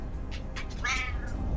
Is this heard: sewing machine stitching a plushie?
no